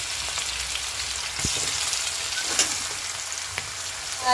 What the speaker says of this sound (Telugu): ఆయిల్ అయితే వేడింది కదండి ఆవాలు వేసుకుందాం ఆవాల తర్వాత జీలకర్ర వేసేసుకొని వేసుకొని బాగా ఫ్రై చేసేసుకోవాలి